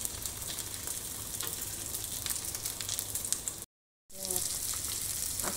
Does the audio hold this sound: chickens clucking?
no